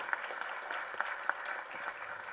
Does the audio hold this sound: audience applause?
yes